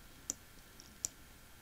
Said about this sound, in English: I click the Add button to access my macro.